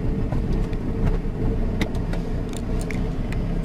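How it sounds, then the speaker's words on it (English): Car engine stuttering on a cold day, a steady low rumble that holds close and fairly loud throughout, with a few brief clicks and rattles over it. "Car's stuttering because it's a cold day."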